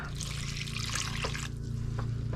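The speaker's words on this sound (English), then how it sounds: "And you add the rest of the water." Water pours into a pizza dough mixture in a home kitchen, a steady trickling splash that runs on, then thins into a few scattered drips near the end; no one talks over it.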